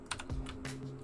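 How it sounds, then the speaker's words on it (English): A cat stepping across a computer keyboard during a Cities: Skylines II session, a short jumble of a few uneven key clacks, close and moderately loud, with no talking. "That's a cat on the keyboard if I've ever seen it."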